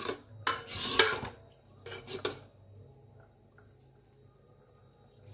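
Vermicelli being stirred with condensed milk in a pot, a few clinking scrapes of a spoon against metal in the first couple of seconds, then a quiet low simmer with faint wet sounds, no voices.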